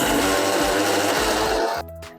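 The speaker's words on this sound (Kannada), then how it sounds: "ಮೊದಲಿಗೆ ನಾನು ಹಸಿ ಕೊಬ್ಬರಿನ ಒಂದು ಸಲ ಮಿಕ್ಸಿ ಮಾಡ್ಕೋತೀನಿ" A kitchen mixer grinder whirs steadily while grinding fresh grated coconut into a fine powder, the motor pulsing in a few bursts before cutting off near the end, loud and close with no talking.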